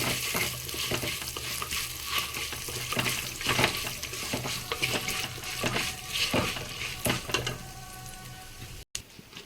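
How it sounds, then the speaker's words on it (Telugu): Cumin seeds frying in a pan for an old-style tomato chutney with dried red chillies give a steady, close sizzle with crackles and occasional stirring scrapes, ending abruptly. "కొంచెం జీలకర్ర ఇవైతే మంచిగా ఫ్రై అవ్వాలి"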